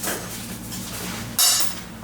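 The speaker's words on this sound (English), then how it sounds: "Oh, I'm throwing studs" Rusty exhaust manifold studs from a 2UZ-FE V8 in a first-generation Toyota Sequoia/Tundra clatter down in two sharp metallic impacts, close and loud, over a quiet garage background.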